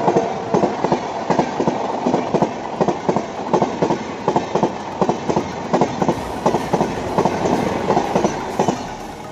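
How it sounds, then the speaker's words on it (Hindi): Gatimaan Express train rushing past at high speed, a loud, steady roar cut by rapid rhythmic clickety-clack bursts as wheels cross rail joints, close by and continuous throughout with no voices. "Gatimaan express, this is India real fastest train"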